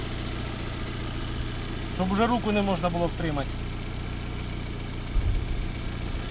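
A hot Daewoo Matiz engine idles steadily with a low, even hum before a compression test, while someone talks over it briefly; a small knock or bump near the end.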